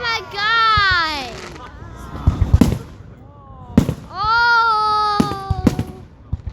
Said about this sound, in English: I see a million fireworks.